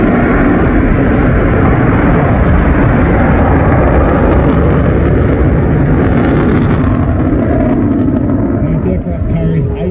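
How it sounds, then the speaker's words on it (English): An F-35A Lightning II fighter jet roars through a maximum-rate turn at the Shellharbour airshow, a loud, sustained, rumbling engine blast that fills the whole clip, easing slightly at the end as a commentator talks over it. "He's getting absolutely everything he can out of this aircraft."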